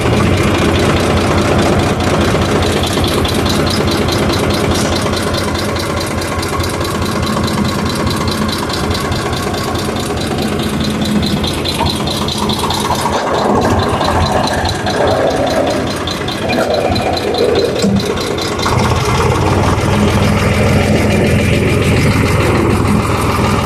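A tractor pulling a water tanker idles loud and close, a constant low diesel rumble with a faint knocking throb that runs unbroken throughout.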